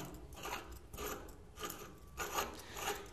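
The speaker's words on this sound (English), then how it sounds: "they'll hook this gated Y right up to here to the threads, spin it on," A gated Y fitting spun by hand onto the threads of a fire standpipe, giving a series of faint rhythmic metallic ratcheting and scraping turns, close up with no talking.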